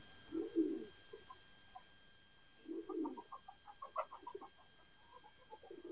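Pigeons coo and call in a loft setting: two loud low coo bursts near the start and middle, followed by a scatter of softer overlapping coos and calls from several birds, close by with no talk.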